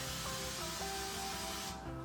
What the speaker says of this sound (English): I kind of rotate the can as I'm spraying